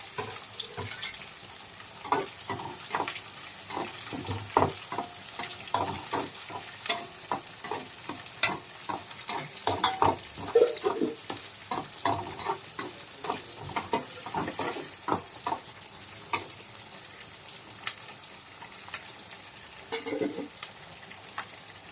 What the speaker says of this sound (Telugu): ఉల్లిపాయ ఎండుమిరపకాయలు కరివేపాకు అన్నీ వేసి వేయించుకోవాలి